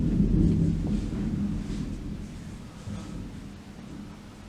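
Deep rolling thunder rumbles continuously through a massive thunderstorm in Leicestershire, UK, loud and low, with a faint wash of rain beneath and no voices.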